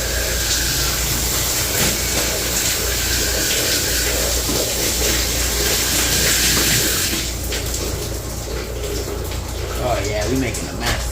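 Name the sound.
hot water running from a tap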